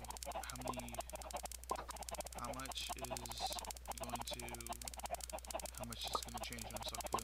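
Many Minecraft chickens cluck in a crowded automatic farm in the video game, with repeated short clucks over a dense layer of rapid clicking from steps.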